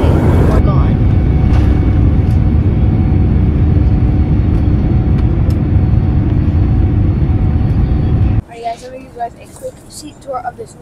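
Jet engines roar loud and steady inside an airliner cabin during takeoff on a North Atlantic flight to Berlin, a broad rumbling wash that cuts off abruptly to quieter cabin noise near the end.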